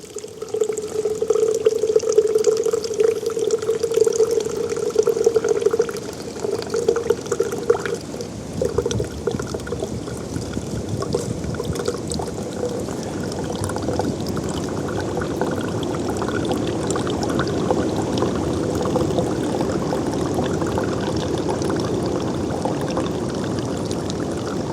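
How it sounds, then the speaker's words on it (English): Water that has been filtered is poured into a bag, a steady splashing pour lasting several seconds that settles into a continuous loud trickle and stream with no talking. "we're gonna pour that water inside this bag"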